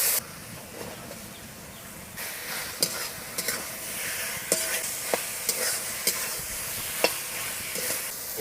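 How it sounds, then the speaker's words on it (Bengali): A spice paste of ginger, garlic and cumin with chopped tomato, turmeric, chili powder and salt sizzles in a pan for a fish curry, with a steady hiss and sharp spatula taps and scrapes at irregular intervals. "টমেটো কুচি, হলুদ গুঁড়ো, লঙ্কা গুঁড়ো, নুন, এবার ভালো করে কষিয়ে নেব মশলাটা।"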